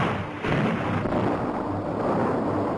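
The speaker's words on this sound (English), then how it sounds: "After each explosion," A dynamite blast against rock canyon walls during dam construction, a heavy rumbling roar that swells and sustains loudly for a few seconds, with no voices.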